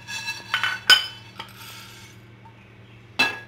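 Roasted chana dal tipped from a pan into a metal vessel for chutney, heard as a few sharp metallic clinks and scrapes spaced over a few seconds, with a low steady hum underneath.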